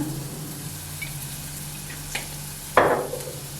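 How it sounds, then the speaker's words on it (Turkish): Carrots sautéing in a pan for japchae, heard as a low, steady sizzling hiss with a couple of faint stirring ticks and one louder scrape or toss near the end. "Sadece soteleme yapıyoruz."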